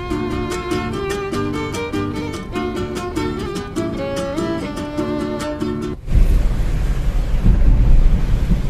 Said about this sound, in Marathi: बघा पाऊस कसा येतोय, भयंकर पाऊस चालू आहे